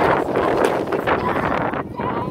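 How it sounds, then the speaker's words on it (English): Gusty wind in a park buffets the microphone with a steady, loud roar that rumbles throughout. "it's kind of windy today here."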